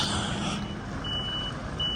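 A lorry reversing sends out a steady series of high electronic warning beeps over the low rumble of its engine, a moderately distant sound with no voices.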